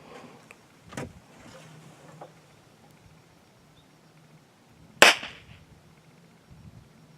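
A factory muzzleloader rifle loaded with 120 grains of Triple Seven powder and a 300-grain conical bullet misfires with a single sharp click, standing out from a quiet outdoor background with a few faint knocks before it.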